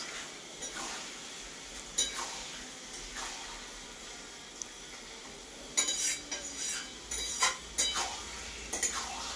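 Goat meat being stirred in a hot pan of fried spices, with a steady background sizzle and intermittent scraping, clinking strokes of a utensil against the pan, several louder clusters toward the end.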